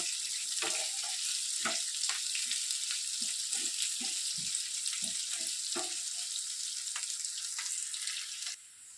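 Whole spices and ingredients for mutton curry roast in a hot pan with a steady, close sizzle, broken by frequent soft scrapes and taps of a spoon stirring, with no one speaking.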